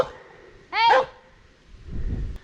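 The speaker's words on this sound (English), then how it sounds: "Is this somebody's dog? Very aggressive dog here." A dog barks aggressively in a short, loud burst of several sharp barks out on a rural Welsh coastal path, followed by quieter low rustling.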